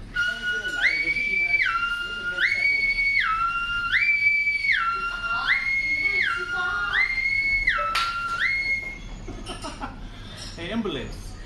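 A voice mimics an ambulance siren, rising and falling in a regular two-tone wail that repeats about five times up close, followed by brief whoops and some laughter.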